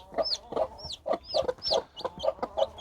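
Newly hatched green-egg chicken chicks cheep repeatedly in quick, high-pitched peeps, close by, with soft clucking underneath and no speech.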